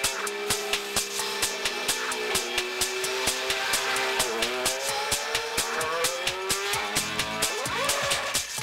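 A Formula 1 car on cold intermediate tyres leaves the pits with a loud, high engine whine. Its pitch climbs and dips through gear changes over a steady train of sharp rhythmic clicks, and it rises again at the end.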